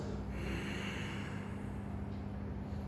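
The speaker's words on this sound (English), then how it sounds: "That's called victorious breath." Ujjayi or victorious breath in a hot yoga class, a steady inhale drawn through a slightly constricted throat, giving a continuous close, breathy hiss with no talking over it.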